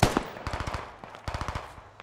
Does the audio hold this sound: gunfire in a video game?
yes